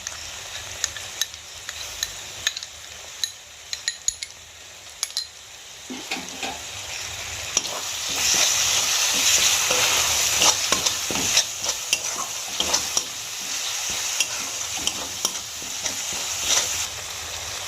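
Masala sizzling and being stirred in a kadai after whisked sour yogurt goes in, for chana masala; quieter frying at first, then a loud sustained sizzle with repeated utensil scrapes and clinks, no voices.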